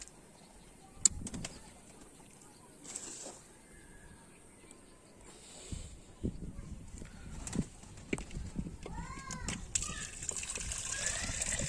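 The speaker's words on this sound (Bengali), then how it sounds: "কবুতরের জন্য সকালবেলা পানিও চেঞ্জ করে দিতে হবে, এখানে রেখে পানিটা চেঞ্জ করে দিই" Water sloshes and splashes in short, irregular bursts as a pigeon water dish is emptied and refilled, with bird chirps and faint voices in the background.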